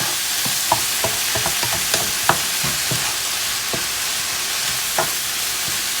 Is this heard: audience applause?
no